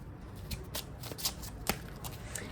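A deck of tarot cards is shuffled by hand in a series of quick, crisp riffling flicks and soft slaps, close and clear, with no voice.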